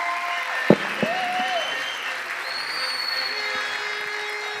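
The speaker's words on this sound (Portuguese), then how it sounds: "Salva de palmas para a Lívia" An audience applauds a guest on a Brazilian talk show podcast, a steady spread of clapping that carries evenly through the clip with a couple of sharper claps near the start.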